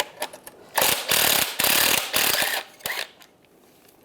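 A 13mm socket ratchet clicking as bolts are removed from the power steering rack of a 1998-2010 Volkswagen Beetle, with short bursts of rapid close ratcheting separated by brief pauses, fading to quiet at the end.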